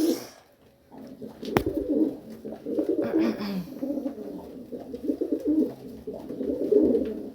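Several pet pigeons coo in low, throaty rolling calls, close and steady, overlapping one another with a single sharp click partway through.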